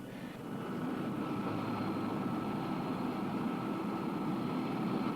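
Beller Trijet airliner taxiing on a runway, its engines a steady, loud low roar holding without a break from start to finish.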